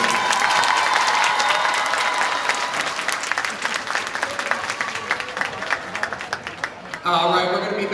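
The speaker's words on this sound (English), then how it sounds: "Big round of applause for them." A large audience claps steadily for a middle school color guard at an evening guard, dance and drum show, the dense applause running unbroken for several seconds before a brief louder swell near the end.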